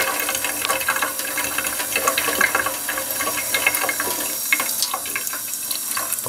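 Tap water runs continuously through a Drinkwell Zen pet fountain filter, flushed in reverse to rinse it, with a close and steady splashing rush.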